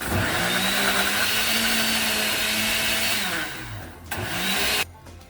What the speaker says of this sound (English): so we're going to use this blender. We're going to pulse this just for a couple seconds.